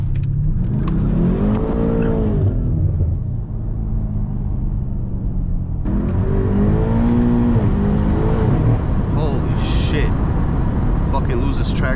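A BMW M8 Competition drifting through turns, its engine revving hard in rising and falling sweeps with a loud, close rumble throughout and a brief dip between pulls.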